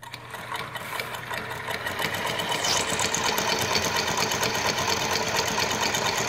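A New Tech GC-20U83 zigzag lockstitch sewing machine stitches very tiny stitches, giving a rapid, steady mechanical chatter that starts softer and settles into a loud, even whir up close.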